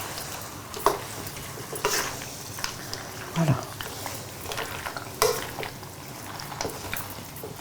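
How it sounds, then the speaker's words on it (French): Stirring one-pot pasta with chicken, courgettes and tomato sauce, diluted with half a litre of hot water from a kettle, in a pot: steady wet scraping and soft sizzling with a few clinks and brief speech over it. "On va mélanger avec la sauce tomate et on va diluer avec un demi-litre d'eau."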